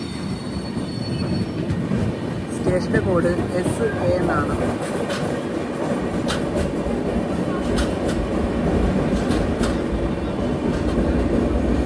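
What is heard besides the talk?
Vivek Express train arriving at Salem Junction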